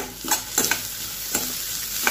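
Onion and garlic sautéing in a pan for Gobi Manchurian with a constant low sizzle, broken by several sharp scraping strokes of a spoon stirring through the pan, up close and without talk.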